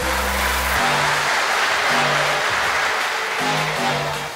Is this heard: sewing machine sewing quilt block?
no